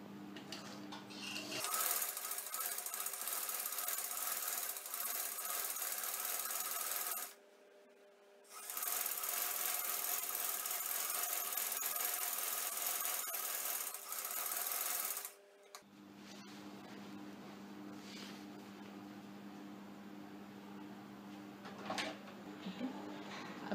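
A sewing machine stitches along a fabric edge for a shalwar with a loud, continuous close-up whir in two long runs and a brief stop between them, then quieter handling sounds.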